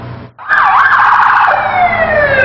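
A loud, close police siren wails up and down, then settles into a sustained high tone, with no voices.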